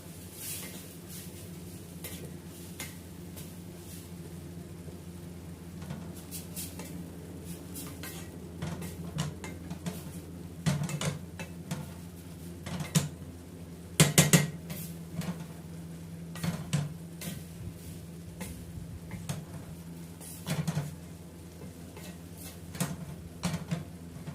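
Dal being stirred in a cooking pot for dal fry: soft scraping and clinks of a spoon against metal, intermittent and fairly quiet, with a few sharper knocks in the middle, no talking.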